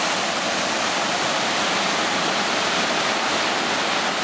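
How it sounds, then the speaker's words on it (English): A fast-flowing river swollen after heavy rain rushes near a waterfall, a loud, steady, dense roar of water heard close and alone. "The river's very high today."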